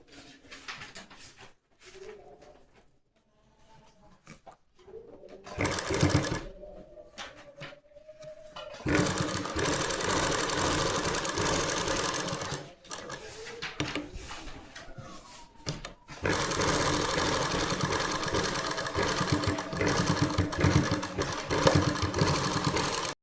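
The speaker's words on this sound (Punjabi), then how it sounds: "ਇਸੇ ਤਰ੍ਹਾਂ ਨਾਲ ਆਪਾਂ ਦੂਜੀ ਸਾਈਡ ਵੀ ਸਲਾਈ ਲਗਾ ਲਾਂਗੇ" A sewing machine stitches the other side of a kameez neck in close bursts of motor whir, with a short run first and then longer, steadier stretches, with quiet handling sounds between them.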